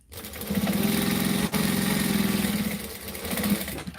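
A sewing machine hums steadily for about three seconds, sewing down a seam, close and fairly loud, starting up and winding down at the ends with no talking.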